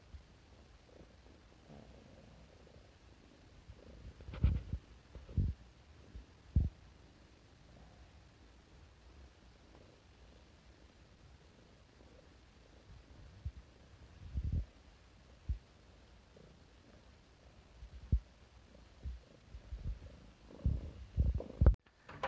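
A house cat purring softly and close, a low continuous rumble broken by a few louder soft thumps and bumps.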